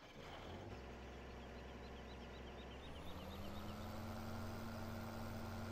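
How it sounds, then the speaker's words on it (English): A tractor engine in Farming Simulator 17 drones at idle with a steady low hum, its pitch lifting slightly partway through as it revs a little. It is continuous and faint, with no talking. "move this tractor out of the way."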